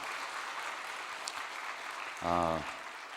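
A church congregation applauds at moderate volume during a service, a steady wash of clapping with a brief louder voiced swell near the end.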